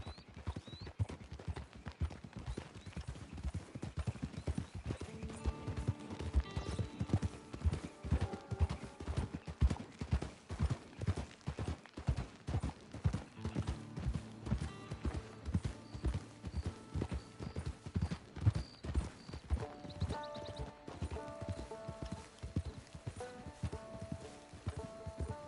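Steady, rhythmic clip-clop of a horse's hooves on a trail in Red Dead Redemption, close and continuous over game music for the whole stretch.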